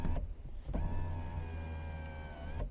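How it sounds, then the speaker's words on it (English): Electric sunroof motor on a 2006 Toyota 4Runner SR5 tilting, a steady close whirring hum that runs the whole time with a brief change near the start. "I do wanna show you the sunroof working"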